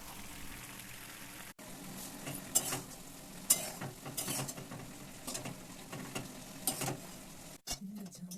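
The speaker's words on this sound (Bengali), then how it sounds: "চলো পাস্তাটা রান্না করে নিই" Pasta cooks in a pan with a soft, low sizzle. Irregular scraping and clinking from stirring come through at close range, fairly quiet overall.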